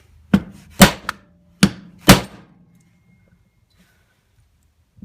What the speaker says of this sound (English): just take a punch and punch in right there at that location